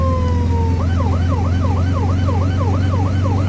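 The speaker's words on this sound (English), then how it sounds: "Why is it different siren for EMS and fire?" An emergency vehicle siren in the video game Flashing Lights wails loudly and continuously in quick rising-and-falling sweeps over a steady low engine-like drone, with no voices.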